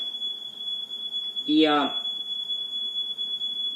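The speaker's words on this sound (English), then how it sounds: "the fire alarm's going off" A smoke or fire alarm sounds indoors as one steady, piercing high tone that holds through the whole stretch, with a brief voice cutting in near the middle.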